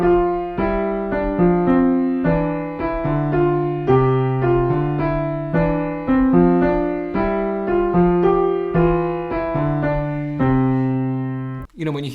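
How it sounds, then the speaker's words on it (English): Two interlocking rhythmic lines are played with both hands as a 3 against 2 polyrhythm, with clear sustained pitched notes in an even, repeating pattern, loud and alone with no talking. "The 3 against 2. It sounds like this."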